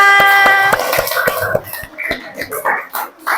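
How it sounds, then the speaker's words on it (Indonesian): A class of young pupils claps together in a quick, steady rhythm with sharp, close claps, then the clapping breaks up into chatter and scattered noises. "Tepuk tangan untuk kalian semua"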